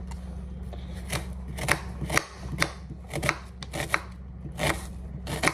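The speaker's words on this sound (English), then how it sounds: "So I'm gonna chop some onions now." Knife chopping onions on a cutting board in a home kitchen, with a dozen or so sharp, close, irregular chops over a low steady hum and no talking.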